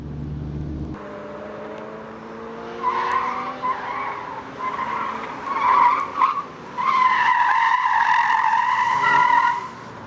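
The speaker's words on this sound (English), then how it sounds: "Each time you go around, faster and faster until you induce deliberate understeer." A car is pushed into deliberate understeer on a test track, its tyres squealing in long, loud, wavering tones over the engine, building in bursts and holding for the last few seconds.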